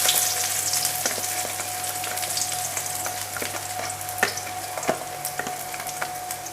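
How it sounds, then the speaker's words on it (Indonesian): Garlic and shallots fry in hot oil with a steady, even sizzle, punctuated by scattered crackles and a few faint utensil taps, close and moderately loud with no voices. "Setelah minyaknya panas, kita masukkan bawang putih,"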